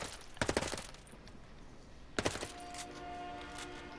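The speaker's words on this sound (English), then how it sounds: "I'll shoot under the vehicle." Gunfire in the shooter game Ghost Recon Breakpoint comes as two quick rattling bursts of several shots each, the second about two seconds after the first, with a steady tone ringing beneath.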